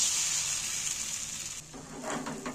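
Egg paratha made from liquid dough fries in butter and oil on a pan, a soft steady sizzle with faint spatula scraping near the end, quiet and close.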